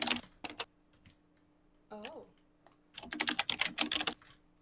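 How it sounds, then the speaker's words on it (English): Close computer keyboard typing, with the microphone right above the keys, comes as short bursts of crisp, rapid clacks and a dense flurry near the end, broken by a brief spoken exclamation in the middle. "Wow, your typing is very audible."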